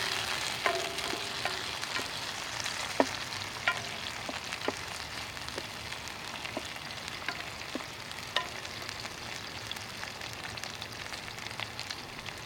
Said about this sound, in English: this is a really ripe tomato. Fry that up.